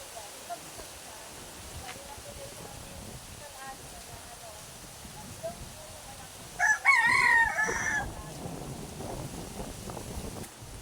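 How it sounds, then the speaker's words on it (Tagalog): Rooster crowing once, fairly close, amid a rural yard with chickens and ducks, heard over wind noise and low background murmur, with faint clucking around it. "May manok, may pa pala silang pato, oh."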